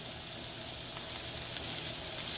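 Shredded red cabbage caramelizing in a hot pan gives a steady, even sizzle and crackle, fairly quiet and close, with no voices.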